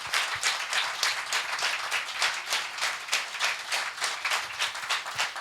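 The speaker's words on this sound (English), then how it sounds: "I would just like everyone to clap for them" A room of conference attendees at a medical lecture on ultrasound-guided nerve procedures claps steadily together, a moderately loud patter of many hands that continues evenly throughout without voices.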